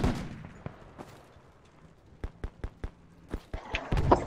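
Gunfire in the Project Reality video game, a series of sharp distant shots, first scattered then in a quicker rhythmic burst of single cracks, with a louder clatter at the end.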